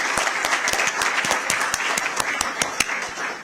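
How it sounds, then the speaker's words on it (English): An audience at a city meeting claps for elected officials, a close, steady burst of many hands clapping for a few seconds with no talking. "I want to give them another round of applause and say thank you so much."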